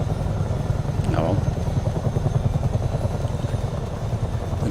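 Chinook twin-rotor helicopter engine in Microsoft Flight Simulator 2020 during a night flight, a steady low droning rumble with rotor thrum, continuous and fairly loud, with talking over it.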